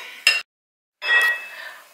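A large frying pan is handled on the stove for frying matzo brei. A brief metallic clank is followed by a longer ringing scrape, both close and fairly loud.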